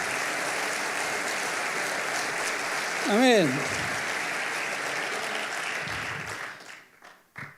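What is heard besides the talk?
church congregation applauding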